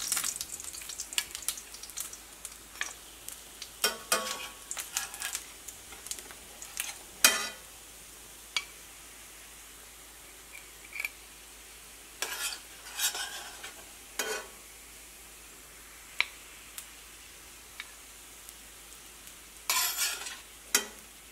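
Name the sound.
wheat flour snack frying in hot oil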